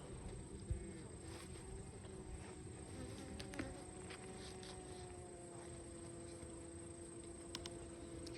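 Honey bees buzz steadily from a freshly opened beehive during a hive inspection outdoors, a dense close swarm hum with faint occasional knocks of hive frames.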